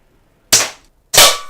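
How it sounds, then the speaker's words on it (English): Two sharp airsoft shots from a Classic Army CA870 spring shotgun fired at cans outdoors, each a loud, close crack about half a second apart with a short decaying tail, alone without talk. "Some good shooting by Lloyd."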